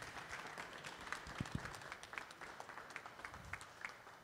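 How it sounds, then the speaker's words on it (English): Audience applause after a game development meeting talk, a steady wash of many hands clapping at moderate volume with a few sharper claps standing out, continuing evenly throughout with no voices. "Another round of applause."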